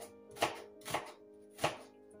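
Three separate knife chops on a board as onion and garlic are cut, each a sharp close thud with a pause between, over a steady low background hum.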